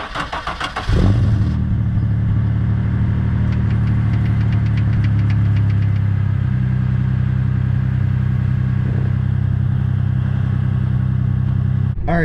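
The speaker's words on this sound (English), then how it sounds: "get you guys a cold start" A 2003–2004 Terminator Cobra fires up on a cold start with a sharp crank and catch, then settles into a loud, steady, rumbling idle held close by for the rest of the clip, with no talking.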